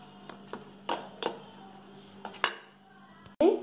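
Masala groundnut being stirred with orange food colour and corn flour, producing a few sharp clinks of a utensil against a bowl spaced irregularly, close and fairly quiet, ending in a louder scrape.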